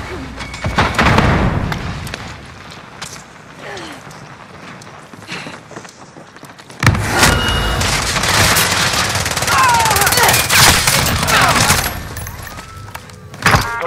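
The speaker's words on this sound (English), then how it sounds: "I am under fire." Gunfire in Call of Duty: Modern Warfare: bursts of rapid shots and thuds open the stretch, then after a quieter gap a dense, loud barrage of continuous fire and impacts carries to the end, with voices faintly mixed in.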